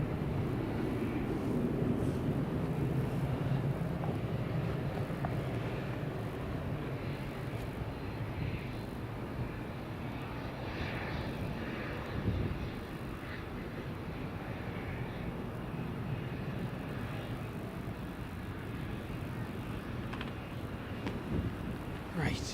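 A Turkish airliner at Edinburgh Airport on a rainy day gives off a broad, steady jet roar that holds from start to finish, with wind buffeting the microphone at times.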